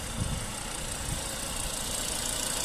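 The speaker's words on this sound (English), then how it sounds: "recently serviced engine sound nice and smooth" A silver 2005-era Volvo V70 2.5T SE estate with a petrol five-cylinder turbo, automatic and all-wheel drive, idles smoothly and steadily at a constant, moderately quiet level with no voices.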